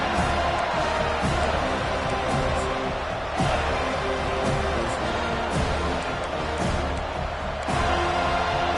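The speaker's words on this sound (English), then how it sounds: "this home crowd is fired up and ready to make a difference today" A home crowd roars at a football game, a dense, sustained wash of cheering and noise filling the stadium, with a commentator's voice faintly underneath.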